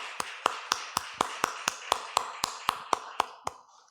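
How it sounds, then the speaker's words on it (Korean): Clapping rings out at a Sunday church service after a prayer, about thirteen sharp, evenly spaced claps in a brisk steady rhythm, close and distinct, with the last ones tapering off into quiet. "함께 영광의 박수를 드리겠습니다"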